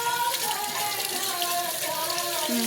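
Water running steadily from a tap over something being rinsed in a kitchen, a close, continuous gushing wash with no pauses.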